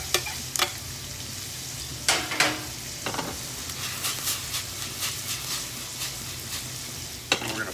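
Tomatoes go into shrimp and tender vegetables frying in hot butter, a steady close sizzle broken by a few sharp scraping stirs and clicks of a utensil against the pan.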